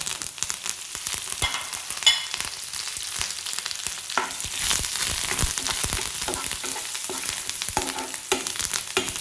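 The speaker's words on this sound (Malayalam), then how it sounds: "ഇതിലേക്ക് നമുക്ക് ഈ വറ്റൽമുളകും കറിവേപ്പിലയും കൂടെ ചേർക്കാം." Dried red chilies and curry leaves fry in a pan for a jackfruit seed thoran, crackling and spitting close by in a dense, uneven sizzle with scrapes of stirring throughout and no voices.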